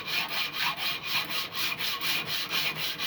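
Sandpaper rubbed back and forth over a knife blade, producing a steady, rhythmic rasping of even strokes, close and loud, with no voices.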